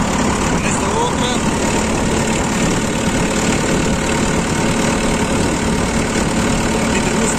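A tractor engine idles close by, a continuous low rumble with a broad noisy hiss, holding an even level throughout.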